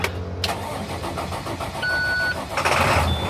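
An ambulance engine cranks and catches, then settles into a steady, loud running rumble close by.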